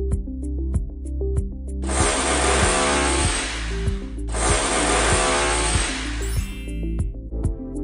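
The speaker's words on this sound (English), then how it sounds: "Now make a small hole with drill machine halfway up on one side of the bottle." Two sustained bursts of a power drill whirring as it bores a small hole in a plastic bottle, each lasting about two seconds, with a steady mechanical rhythm running beneath throughout.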